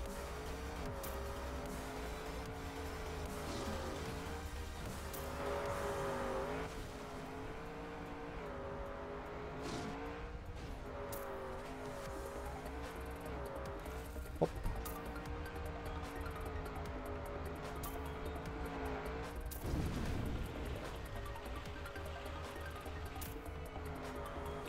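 Desert Car engine in TrackMania racing along a Summer 2024 campaign track, a steady, continuous droning whine whose pitch rises and falls with throttle and speed throughout, with a brief sharp knock midway.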